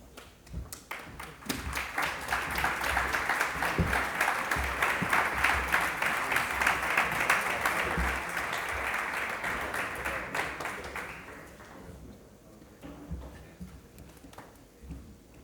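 Audience at a business award presentation in Gijón gives sustained applause, many hands clapping in a dense, lively burst that swells, holds for about ten seconds, then thins to scattered claps.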